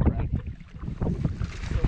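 Gusty wind blowing across Lake Amistad rumbles steadily over a fishing boat, with buffeting noise against the microphone and faint background voices underneath.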